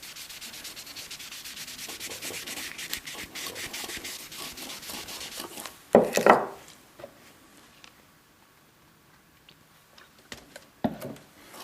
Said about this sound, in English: Basically just kind of get a little rubbed in stain on here.